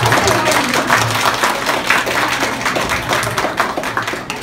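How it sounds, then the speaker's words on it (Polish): Scattered clapping from a small audience at a kindergarten initiation ceremony, a close and uneven patter of hands under background voices and chatter. "I wielkie brawa!"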